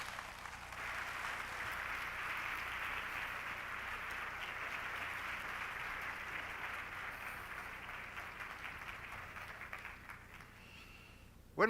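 An audience welcomes a speaker to the stage at a lecture event with a steady wash of applause that lasts about ten seconds. It is moderately loud and distant, and it fades slightly toward the end.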